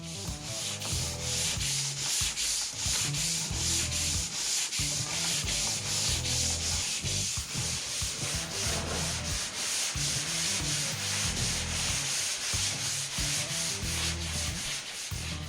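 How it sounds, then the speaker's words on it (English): Longboard sanding primer on a 1965 Pontiac Parisienne fender, a steady close rasping rub in continuous rhythmic strokes that run the whole time with no talk. "we now need to follow it up with a longboard"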